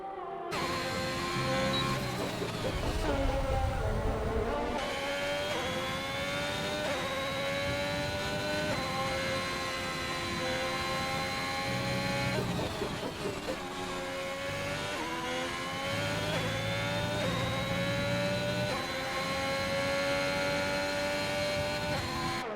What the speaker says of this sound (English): Down the pit straight, the Ferrari driver goes